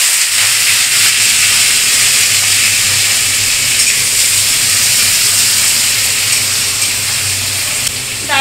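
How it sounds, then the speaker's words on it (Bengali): Teasel gourd and potato frying in hot oil with a kalonji and dried chilli tempering, giving a loud, dense, continuous hiss and sizzle heard close up without pause. "এই যে আমি দিয়ে দিচ্ছি কাঁকরোল আলু, শুকনো লঙ্কা, কালো জিরা ফোড়ন দিয়ে দিয়েছি"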